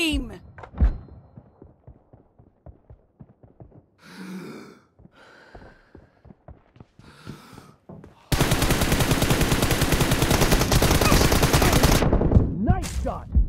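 M416 assault rifle fire in PUBG Mobile: a long, loud sustained burst of automatic shots that begins sharply and runs for several seconds. Earlier come scattered quieter impacts and thuds, with game voice lines heard over them.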